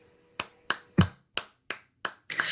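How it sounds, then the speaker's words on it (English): Applause after a university psychology student presentation, heard as about seven sharp, separate claps at a steady, unhurried pace. Fairly quiet and sparse, like only a few hands, with no talk. "this is well-deserved applause"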